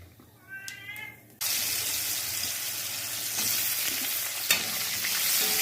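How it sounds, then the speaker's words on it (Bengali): Potatoes drop into hot oil already used for frying fish and tempered with cumin seeds, bursting into a loud, steady sizzle after a short quiet start with a faint high tone, with occasional stirring clinks. "এরপরে আমি আলুগুলো দিয়ে নেব, আলুগুলো একটু ভেজে নেব।"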